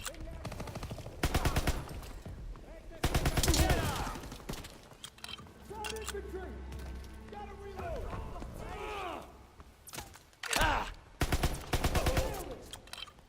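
Gunfire in the Call of Duty WWII beach battle: bursts of rapid automatic fire come in several loud clusters, separated by quieter stretches of game sounds and a voice talking.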